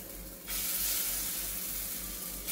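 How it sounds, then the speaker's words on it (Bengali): Jackfruit fritters drop into hot oil in a wok and break into a loud, steady sizzle that fades a little, then flares again at the end. "এটা দিয়ে আমি যে ছোট ছোট করে বড়া ভেজে নেব"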